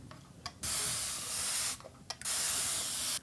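Trigger spray bottle misting water over a crusty, dried-up paint palette, with a few short pumps and then two long, loud hissing sprays up close.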